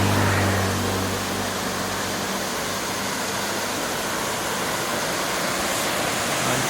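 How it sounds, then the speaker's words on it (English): A large mountain waterfall near the top of a mountain in Mollem National Park pours as a steady, loud broadband roar, with a faint low engine hum fading out at the start. "I stopped at almost at the top of the mountain and there is a nice waterfall here"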